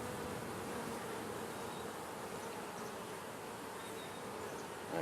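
Dense, steady drone of honeybees swarming at an open hive where fresh comb has been built onto the bar, loud and close throughout with no talking.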